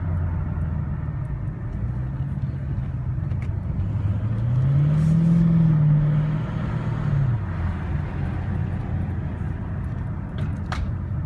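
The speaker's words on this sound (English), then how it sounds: "When you get off the gas, as you see, it stays higher up in the RPMs." Supercharged, modified 2014 Dodge Charger SRT8 heard from inside while driving, its engine a steady low rumble that swells into a brief rise in revs midway before settling back, loud and continuous with no talk.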